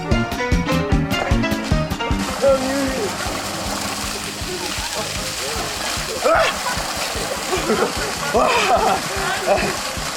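Water splashes and sloshes as a person climbs into a pool or tub, with voices talking and playful chatter over the churning water throughout.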